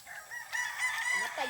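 A rooster crows at a hillside farm during an outdoor boodle feast, one drawn-out call rising and holding at close range, with faint voices and clucking around it.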